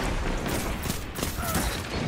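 Scout rifle fire in Destiny 2 during Trials of the Nine, with a few quick, fairly quiet shots over dense background game noise.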